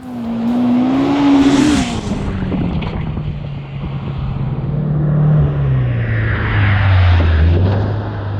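A 2022 Polaris RZR Pro R four-seat side-by-side engine revs up and down while driving, with strong wind buffeting, the pitch sweeping as it accelerates and eases off, loud and close without talk.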